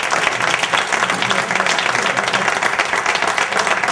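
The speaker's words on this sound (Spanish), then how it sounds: "Así que pediré un aplauso." Dense, steady audience applause fills the hall at a club's 2013 get-together and awards ceremony, many hands clapping together loudly and continuously without a break.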